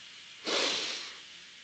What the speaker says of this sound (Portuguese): E a qualquer momento da respiração, eu consigo puxar fundo o meu ar.